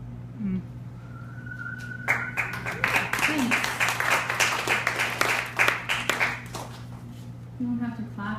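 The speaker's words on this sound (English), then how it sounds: "You don't have to clap every time." After a poetry reading in a Baltimore coffee shop, a small audience breaks into a burst of clapping lasting several seconds, close and lively. A steady hum runs underneath and brief voices are heard before and after.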